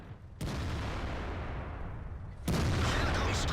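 In World of Tanks, a Panzer IV's big gun fires two heavy, booming shell shots over a second apart, each leaving a loud, sustained roar of rumbling noise with no voices.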